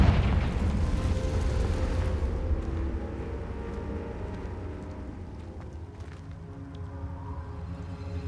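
A Confringo explosive spell goes off in Hogwarts Legacy, a loud low booming blast that rumbles and slowly decays under a layer of game ambience and music.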